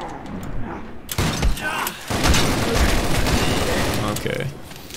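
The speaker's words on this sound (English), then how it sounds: "Now they're shooting at me!" In the zombie shooter Zombie Panic Source, players fire guns in loud, rapid bursts of overlapping shots that crackle almost continuously, with a voice talking over the barrage.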